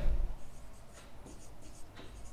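Chalk or marker writing on a board during a Class 10 maths lesson, a series of short scratchy strokes and taps close by, alone without talk.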